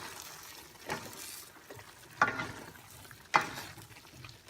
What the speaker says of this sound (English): we're gonna give it good mix here.